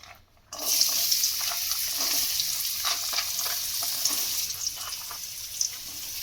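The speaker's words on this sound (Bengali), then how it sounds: "আলুটা একটু ভাজা হলে তখন আমি পেঁয়াজটা দেবো।" Potatoes frying in hot refined oil in a kadai give a steady, close sizzle that begins abruptly after a short quiet moment and then keeps crackling evenly, with no voices over it.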